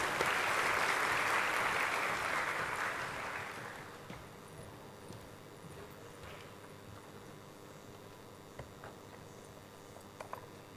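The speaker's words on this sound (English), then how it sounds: "Please welcome her with a round of applause," Audience applause at a closing ceremony in New Delhi, dense clapping at moderate distance for about four seconds, then fading into quiet room tone with a few faint stray sounds.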